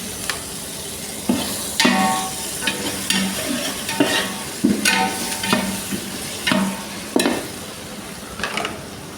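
Biryani ingredients, mint, coriander and tomato among them, frying in a pan with a continuous sizzle, while a spoon stirs and scrapes in repeated bursts of clinks and scrapes.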